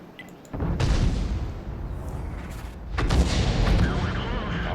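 Two heavy booms of tank gunfire and explosions in a video game, one early and one near the end, each rumbling out loudly.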